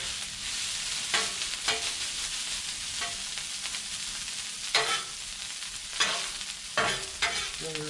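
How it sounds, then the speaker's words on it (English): Chicken fried rice sizzles on a hot Blackstone griddle under a constant frying hiss, with periodic scraping strokes of a spatula stirring it around, fairly quiet and close. "Stir it around."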